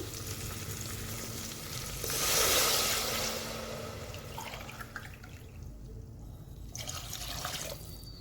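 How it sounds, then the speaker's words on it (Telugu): Water is poured into a pressure cooker pot for bagara rice, a rushing splash swelling for about a second over a hot, sizzling hiss that continues afterward, with a few faint clinks. "four glasses of water పోస్తున్నానండి"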